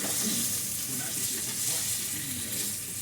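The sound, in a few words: Italian sausage frying with onion and green pepper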